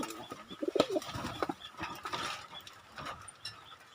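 Racing pigeons in a loft, with soft low cooing and scattered bird calls alongside faint rustling and clicking movements, fairly close and moderately quiet throughout.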